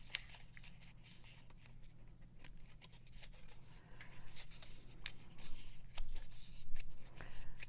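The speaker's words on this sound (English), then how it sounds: "we're just kind of breaking the fibers in the paper a little bit." Paper being curled and rubbed between the fingers while making a paper snail for a kids' craft, a quiet steady rustling and scratching with faint crinkles that grow somewhat louder toward the end.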